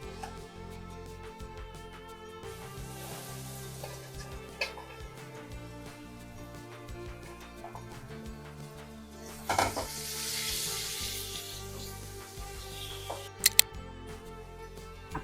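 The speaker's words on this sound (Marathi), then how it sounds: "आता राहिलेला मका परत तसाच तळून घेऊ आपण." Corn kernels fry in hot oil in a kadai with a steady, close sizzle and soft stirring scrapes, broken by a few sharp clicks and no talking.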